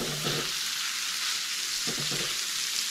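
Bacon sizzles in a pan on a stove, a steady close hiss with a couple of brief scraping or stirring touches.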